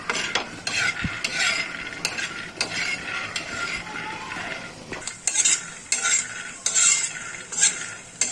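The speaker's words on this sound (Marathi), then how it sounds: "आता याच पॅन मध्ये आपल्याला अर्धी वाटी शेंगदाणे टाकायचे आहेत शेंगदाणे पण आपल्याला अर्धेसे भाजून घ्यायचे आहेत" Peanuts being half-roasted in a dry pan for chilli-peanut thecha, with steady scraping and stirring, spoon clinks against the metal and a faint sizzle, fairly close and continuous.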